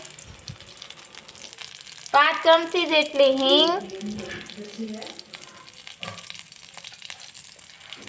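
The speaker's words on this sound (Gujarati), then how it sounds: "હવે આપણે ખડા મસાલાને તેલમાં સાતડી લેશું" Whole spices (bay leaf, cinnamon, cloves, then mustard seeds) sizzle in hot oil for malai kofta gravy, a steady soft crackle running throughout while someone speaks briefly over it.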